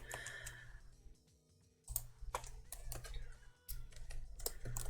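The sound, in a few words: typing on a computer keyboard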